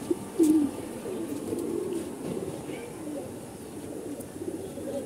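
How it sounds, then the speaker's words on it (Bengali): A khaki pigeon coos softly nearby, a few low, rounded calls rising briefly above a steady background hiss. "দেখতেছেন একটা খাকি কবুতর"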